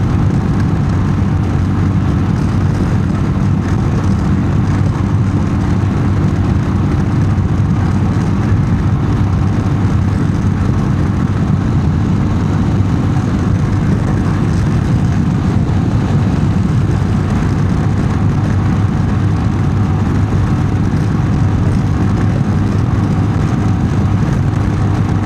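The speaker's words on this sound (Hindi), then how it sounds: "आवाज़ इतनी अच्छी आती है साइलेंसर की" A motorcycle exhaust silencer roars steadily while riding on the road, a constant loud engine drone with heavy wind noise that barely changes throughout.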